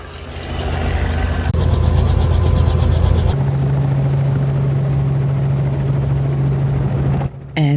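Helicopter flying with its doors removed over a safari landscape of national park wetland, a loud, constant rotor and engine roar close by, shifting in tone partway through, with no talk.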